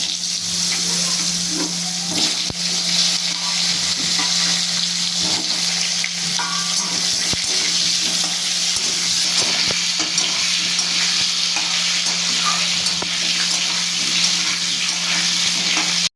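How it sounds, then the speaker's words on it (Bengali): Steady, loud sizzling of cut potato pieces frying in hot oil, a constant crackling hiss that fills the whole stretch with only small shifts. "এবার কেটে রাখা আলুগুলো আমি দিয়ে দিচ্ছি"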